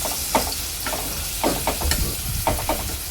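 Onions fry in a pan until browned, a steady moderate sizzle broken by several rhythmic scraping stirs, with no one speaking.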